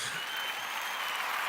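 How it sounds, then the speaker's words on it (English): A crowd including children clapping together, a soft, steady wash of applause at moderate distance with no talk over it. "everyone is like clapping for you, even the kids"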